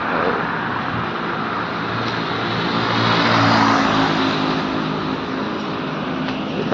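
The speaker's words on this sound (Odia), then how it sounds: "ଚାଲୁ ଗାଡ଼ି" A moving vehicle gives a steady, continuous engine and road rumble at moderate loudness, swelling slightly midway, with no talking.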